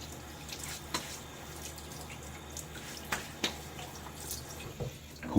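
Tap water runs steadily into a sink as a face is wetted before a wet shave, a continuous hiss of flow with a few small splashes and drips, close by and moderately quiet.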